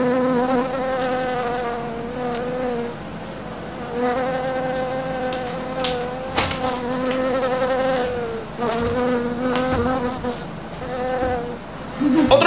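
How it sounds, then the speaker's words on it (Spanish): A wasp buzzes past in several close, loud passes, its droning whine rising and falling in pitch as it comes and goes, with brief pauses between passes. "Pero no hace nada más que pasarle una por el lado y comienza el baile de la bofeta."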